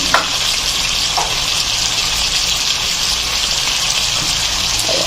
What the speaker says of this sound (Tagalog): Mahaluin muna natin, no, ng bahagya.